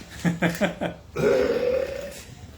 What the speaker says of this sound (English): And belching helps.